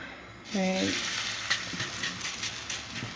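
Aloo paratha sizzles steadily in a little oil on a hot pan, a soft continuous frying hiss close by after a brief clink at the start.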